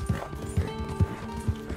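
Horse hooves clip-clop in Red Dead Redemption 2: four evenly spaced, fairly loud hoof strikes over a steady low hum, with no voices.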